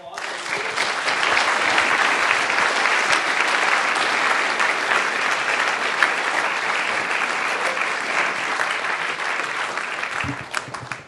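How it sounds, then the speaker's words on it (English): Sustained audience applause at an info and action night, loud and steady for about ten seconds with dense, even clapping before tapering at the end. "Great, let's give them a round of applause."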